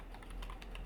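Quiet keystrokes on a computer keyboard as a telnet command is entered, a short run of soft, irregular clicks over a steady low hum.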